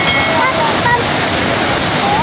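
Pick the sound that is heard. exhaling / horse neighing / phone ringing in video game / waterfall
waterfall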